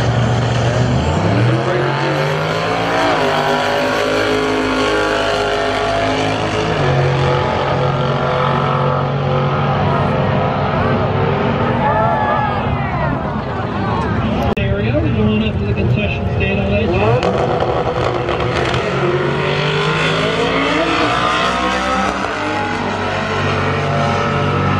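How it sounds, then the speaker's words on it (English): A twin-turbo Mazda RX-7 at a street car meet in Denver, its engine roaring loud and close as revs rise, fall and climb again, with voices talking over the noise. "Twin turbo RX-7."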